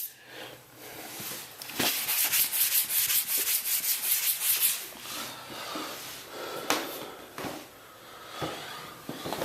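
Sanding imperfections during an office renovation: rhythmic, close abrasive rubbing strokes, loud and steady at first, then thinning to scattered quieter scrapes and knocks.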